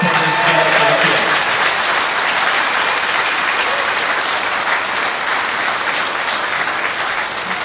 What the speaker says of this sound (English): one huge round of applause for putting this together for the kids